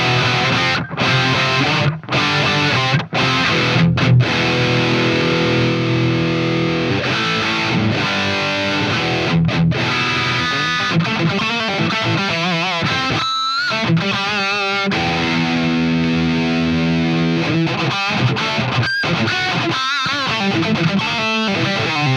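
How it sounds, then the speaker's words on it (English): Baritone guitar played through a Kemper amp with a distortion 3 effect, a loud, continuous distorted riff with sustained chords and brief stops, heard alone without talk. "I'm going to keep that distortion 3 on there"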